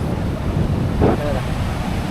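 Blustery stormy wind and crashing sea waves at high tide on a rainy-season beach at Kolthare, a Konkan coastal village, fill the air in a continuous, rough roar, with a voice briefly heard over it.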